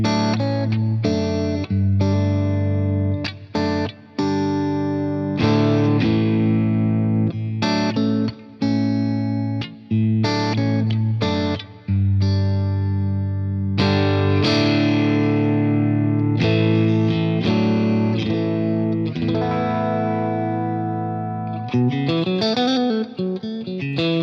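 An electric guitar plays through the clean channel of a Tone King Imperial MK2 preamp, ringing out chords and single notes in loud, sustained phrases, with a bent, wavering line at the end.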